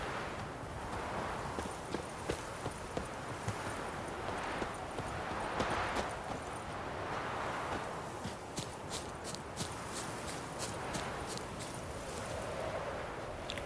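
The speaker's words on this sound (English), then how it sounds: "So I call my horse right here, I think." Horse hooves clip-clop in The Witcher 3 video game, a steady rhythmic trot of close, distinct hoofbeats over a soft ambient background.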